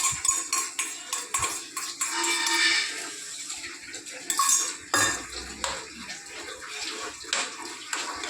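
A bowl is rinsed with water in a home kitchen while spices are being prepared, giving splashing and sloshing with clinks of metal utensils and dishware, close by and irregular throughout.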